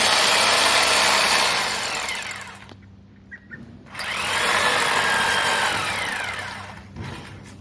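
Power drill boring holes for chemical injection, a loud grinding whine that runs, stops briefly with a few small knocks, then starts again and continues steadily.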